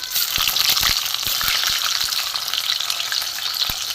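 Small pieces of paneer fry in hot oil for Kashmiri paneer, a close, steady crackling sizzle with sharp pops and spatters as moisture hits the oil, plus a few knocks of stirring.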